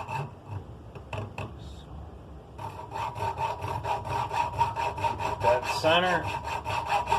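An old hand saw cuts through wood in steady back-and-forth strokes, close and fairly loud, the rasping rhythm speeding up after a few sparse opening strokes, with a brief spoken remark over it.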